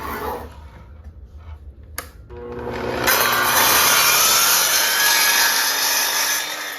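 A miter saw starts with a short whir, then from about three seconds on cuts through a wooden board with a loud, steady, close-up high-pitched whine and no talking.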